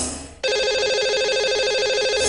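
A telephone ringing for a radio or TV phone-in call: after a brief quiet start, a loud, steady electronic ringtone warbles continuously to the end.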